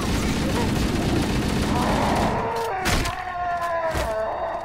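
Sustained automatic gunfire in the shooter game Halo, a loud continuous rattle of shots that thins into scattered bursts and booms near the end, mixed with in-game voices.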